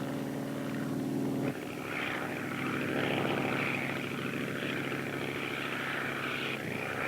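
A single-engine propeller airplane drones steadily while flying alone over the open ocean, a continuous close engine hum with a brief dip in tone partway through, no voices.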